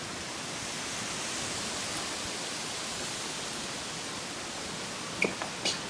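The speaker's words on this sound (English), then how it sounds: "Sorry about the windy sound." Strong storm wind roaring steadily as a dense, loud rush of noise close to the microphone, with a few sharp knocks near the end.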